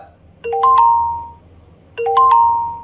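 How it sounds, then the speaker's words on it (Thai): Shopee app musical melody notification, a short tinkling phrase of a few rising chime notes played twice about 1.5 seconds apart, each note sustaining and fading, clean and alone. "และเสียงสุดท้ายนะครับทำนองดนตรีนะครับ"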